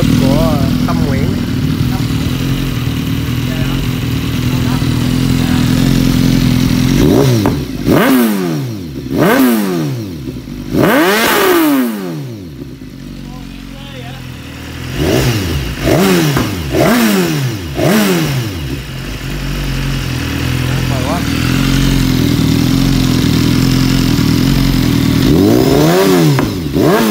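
A BMW S1000RR fitted with an Akrapovic full exhaust system is revved repeatedly, with sharp rising and falling bursts over a loud idle. Voices talk nearby between the revs.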